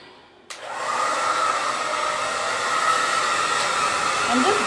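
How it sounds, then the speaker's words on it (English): A blow dryer drying stencil paint switches on with a sharp click, then a steady, loud, close whooshing roar runs without a break. "I'm going to hit it with the blow dryer real quick"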